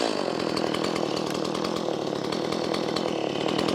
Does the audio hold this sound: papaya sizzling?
no